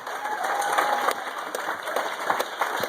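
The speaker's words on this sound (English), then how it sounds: "A big round of applause for Geoff and Bill" Wedding guests give a big round of applause for the two best men after their speech: a full, sustained crowd clapping with a few sharper claps standing out and a faint murmur of voices underneath.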